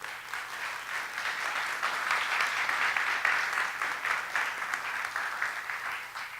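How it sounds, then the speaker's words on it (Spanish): A church congregation applauds during a sermon, a broad, steady wash of many hands clapping that swells slightly in the middle and continues throughout. "¿Puedes darle un aplauso, Señor?"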